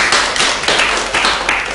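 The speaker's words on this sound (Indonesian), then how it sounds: "Tepuk tangan dulu untuk teman kalian" Brief classroom applause from students for a classmate, a few scattered bursts of hand claps, close and fairly loud, with no talking.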